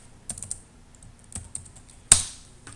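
A few keystrokes on a computer keyboard while entering a spreadsheet formula, scattered light taps ending in one sharper, louder key press, close by with no talk.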